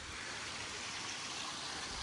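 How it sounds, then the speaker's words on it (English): Running water of a stream flowing over bedrock on a rural property, a steady broadband rush that stays even and continuous throughout, with no voices. "Now, this water doesn't run like this year round, but it runs enough to where I could fill this up"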